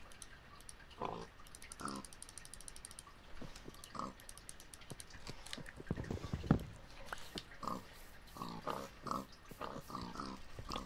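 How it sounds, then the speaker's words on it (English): Minecraft pigs oinking in a survival world, a series of short grunts spaced through the scene at moderate volume over faint game ambience. "I'm tempted to kill one of the pigs."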